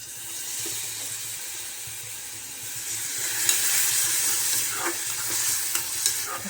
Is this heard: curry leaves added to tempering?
yes